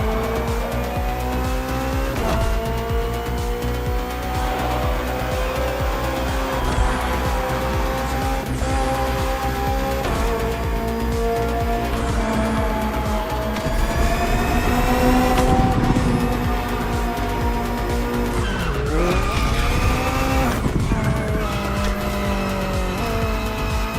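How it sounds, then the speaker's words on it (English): The BMW M Hybrid V8, a 2023 endurance race car built for events like the 24 Hours of Le Mans, roars loudly through repeated gear changes as the engine pitch climbs and drops, with bursts of tire squeal through the corners. "Finally, the BMW M Hybrid V8. What a beast."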